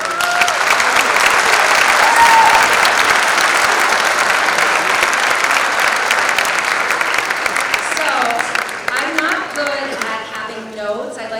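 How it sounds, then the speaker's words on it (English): A school winter band concert audience applauds the Music Boosters with sustained, dense clapping that gradually thins toward the end as a voice begins talking over it. "can we give our Music Boosters a round of applause, please?"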